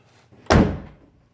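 A newly installed side door on a car being built up from the frame swings shut onto its latch with a single solid thunk, close and fairly loud, then fades quickly into near silence.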